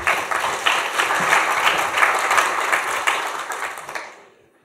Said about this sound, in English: maybe some applause